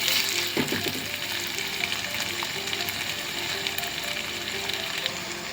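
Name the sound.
frying ginger garlic paste in a pan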